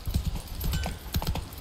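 Horse hooves clip-clop in The Witcher 3 video game, a quick irregular run of close hollow knocks at walking pace, steady over faint background, with no talking.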